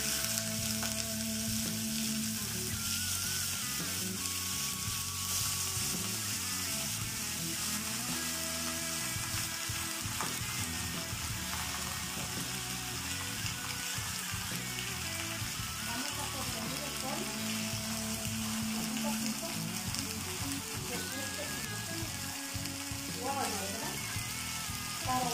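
Chicken with cream cooking in a pan, a continuous soft sizzle and frying hiss with occasional stirring, faint and steady over about twenty-five seconds with no talk.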